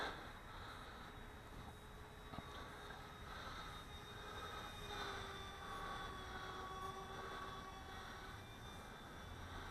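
An Air Hogs Star Wars TIE Advanced toy plane with an EDF motor flies, a thin whining fan drone that rises and falls as the model passes, faint and somewhat distant.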